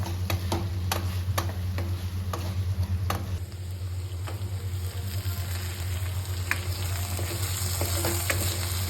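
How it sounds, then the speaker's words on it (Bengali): Mutton with spices and chopped tomato fries in a pan with a steady close sizzle, and a spoon stirring and clicking against the metal at intervals. "মাটনটা ধীরে ধীরে ধীরে ধীরে ভুনা হচ্ছে"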